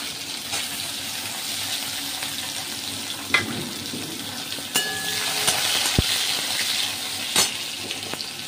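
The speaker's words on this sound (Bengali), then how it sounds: "ভাজা হয়ে গেছে। এরপরে দিয়ে দেবো আমি টমেটো কুচি।" Chopped tomatoes hit hot oil and spices in a pan while cooking a banana flower dish, a steady sizzle and frying hiss with occasional clanks and scraping of utensils, close and moderately loud.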